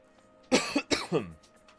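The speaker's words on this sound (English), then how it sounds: "Had to clear my throat" Someone nearby clears their throat in a few harsh, coughing bursts, about a second of rough rasping with no speech.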